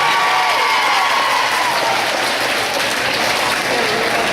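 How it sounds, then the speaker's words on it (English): A school audience gives a student a loud, sustained round of applause. The dense clapping is joined by crowd noise and carries on steadily throughout. "let's give this one student a big round of applause"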